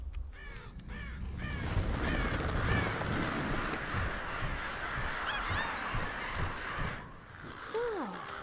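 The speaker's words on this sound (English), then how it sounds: "crows are now a force to be reckoned with" Crows caw repeatedly over a steady windy wash on the moor in the video game Tearaway Unfolded, several harsh calls near and far with a voice talking throughout.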